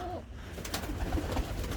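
Pigeons in a loft coo faintly against a steady background hiss, soft low calls scattered through the moment with no voices.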